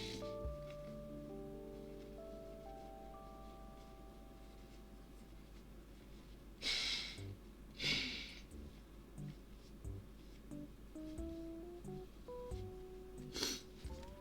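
A person with a badly congested nose blows it in two quick, close bursts, then once more a few seconds later. The blows are faint, over quiet background tones.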